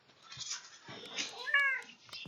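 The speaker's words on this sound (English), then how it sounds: "Maybe you heard that little meow." A pet cat gives a small meow close by during a Clubhouse Games Hanafuda tournament stream, a short, faint, slightly rising call set among soft background sounds.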